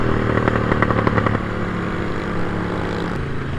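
Motorcycle engine at a motovlogger meetup, a steady loud rumble with a throttle pulse early on, then settling into a constant close idle-to-cruise drone.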